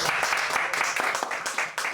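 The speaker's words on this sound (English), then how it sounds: "this must be a clap for them, please." An audience at a talk on hypnosis claps in a close, dense burst of applause lasting about two seconds, fairly loud and continuous with brief dips.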